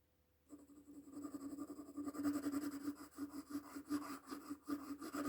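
Graphite pencil shading on paper with even pressure, a soft, close scratchy rasp of repeated back-and-forth strokes starting after a brief silence and continuing steadily.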